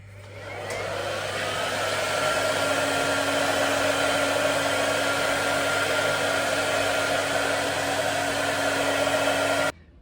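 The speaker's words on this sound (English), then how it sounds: "I just blast it with a hairdryer" A hairdryer blasts steadily on freshly dyed, rinsed hair with no brush, starting abruptly, holding a loud, even whooshing roar with a constant motor hum for about nine seconds, then cutting off sharply.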